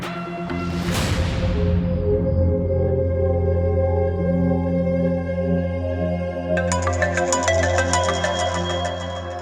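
A phone ringtone plays steadily over a sustained musical bed in an Indian TV drama scene, loud and continuous, with a brighter chiming melodic layer joining near the end; no talking.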